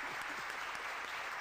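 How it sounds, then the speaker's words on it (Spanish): Brief, dense applause from a gathered crowd at a celebration of a priest's 14th ordination anniversary, a continuous even wash of many hands clapping at moderate volume. "con mucha alegría y mucho aplauso"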